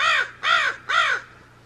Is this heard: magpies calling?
yes